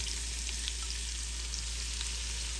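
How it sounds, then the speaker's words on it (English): Finely diced brunoise onions sizzle and crackle steadily in melted butter and bacon fat, a constant close frying hiss with small pops and no talking. "As the butter and bacon fat melt, let's go ahead and add our brunoise onions."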